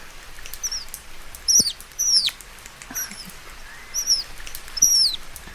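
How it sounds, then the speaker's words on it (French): Birds chirp in short bright calls repeating every second or so, clear and fairly close, over a faint soft hiss that could be fine rain. "je me laisse bercer par le bruit de la pluie fine qui se mélange au doux chant des oiseaux"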